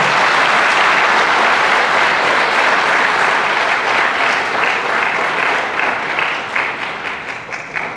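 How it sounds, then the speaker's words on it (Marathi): Loud, dense applause from a large college audience for the parents during a principal's address, sustained clapping that fills the hall and slowly thins toward the end. "ज्यांनी तुम्हाला या महाविद्यालयात प्रवेश घ्यायला लावला त्या सर्व पालकांचं आपण टाळ्या वाजवून अभिनंदन करूया"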